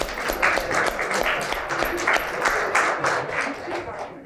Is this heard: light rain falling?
no